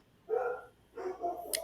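Dogs barking a few times in quick succession, two short bursts of barks at moderate distance with a small yip at the end.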